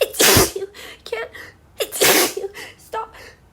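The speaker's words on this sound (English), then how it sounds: "I'm gonna sneeze." Two loud, close sneezes from a woman, each followed by short breathy gasps and small vocal sounds.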